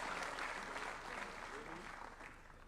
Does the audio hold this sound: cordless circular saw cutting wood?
no